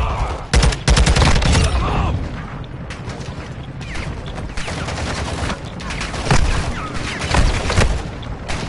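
Dense, sustained gunfire in a PS4 shooter: rapid bursts and fusillades with heavy booms, loud and continuous, with distant shots layered behind and brief player talk over the top.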